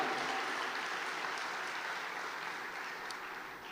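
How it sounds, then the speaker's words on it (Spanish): Faint applause rises from a church congregation during a sermon, a soft steady clapping wash heard from a distance. "Fuerte ese aplauso a Él."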